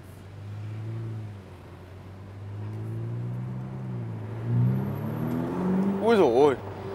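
Ferrari F8 Spider convertible with a 3.9-litre 720-horsepower V8 building revs, a low engine drone rising through rolling gear pulls and climbing to a sharp whining surge near the end, heard from inside the cabin under a steady road rumble.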